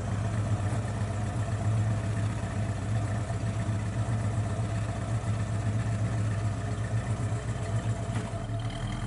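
A 1968 Ford Mustang convertible idles with a low, steady exhaust rumble that stays even and moderately quiet throughout, with no voices over it.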